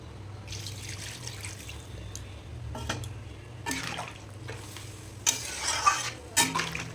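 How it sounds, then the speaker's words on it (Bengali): Water poured into a pan of fried, oil-released fish curry masala for a Bengali fish curry, heard as faint splashing and sizzling bursts that grow louder near the end, over a low steady hum. "এবার আমি দিয়ে দেবো জল"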